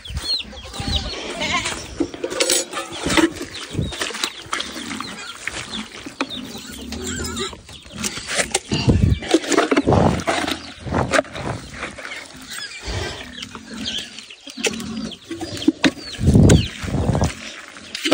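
Pigs squeal and grunt loudly at feeding time, their overlapping harsh cries continuing without a break at close range.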